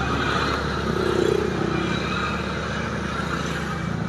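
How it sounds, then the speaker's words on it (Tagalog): Continuous traffic noise rushes from a nearby highway, a steady loud wash with one vehicle briefly rising above it, and nobody speaking. "maingay dito sa lugar na to kasi tabi ako ng highway"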